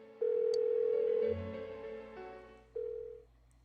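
Telephone ringing unanswered in Persona 4 Golden, a steady electronic ring tone sounding in two bursts with a pause between, clear and alone with no talk.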